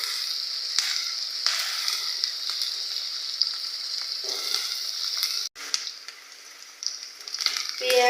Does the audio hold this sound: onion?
yes